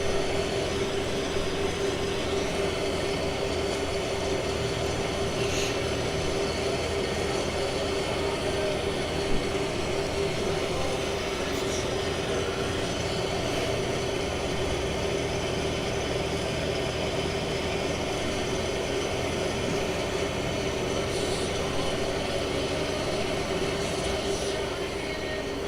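A farm vehicle engine in Farming Simulator 25 drones on at a steady pitch, a constant, fairly loud hum running unbroken throughout with faint clicks now and then.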